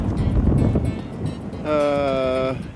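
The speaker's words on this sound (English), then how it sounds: "Very windy today." Strong wind on steep hills in light blizzard conditions between Fort Nelson and Whitehorse buffets the microphone with a rough, gusty roar, and a steady tonal hum joins partway through.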